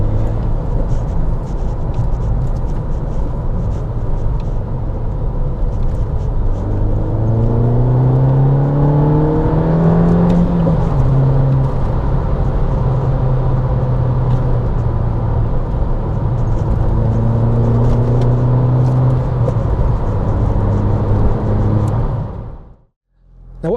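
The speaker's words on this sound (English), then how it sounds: "it's revving a bit higher than it should do. It's at about 1200 RPM" A car engine idles steadily at a raised, slightly high pitch of about 1200 RPM, higher than normal, with a constant low hum that wavers a little before cutting off near the end.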